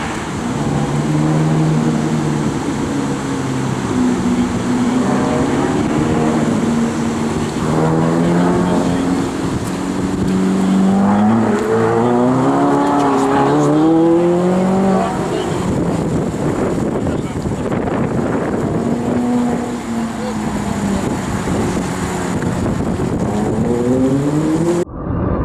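A Lamborghini engine drones and revs as the car drives an autocross course, rising and falling in pitch through gear changes, with heavy wind rush and voices talking over it.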